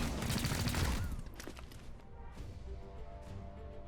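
Squad gunfire in the video game XCOM: Chimera Squad: a dense, loud volley of overlapping shots up front, then a few scattered sharp cracks and impacts over a lingering game soundscape.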